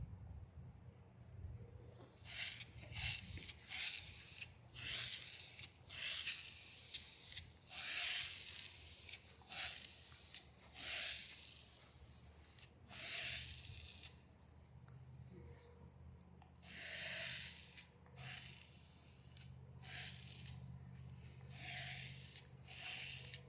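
Bursts of gold spray paint hissing from a can onto a vase, starting and stopping in repeated blasts of varying length, close to the microphone with quiet pauses between.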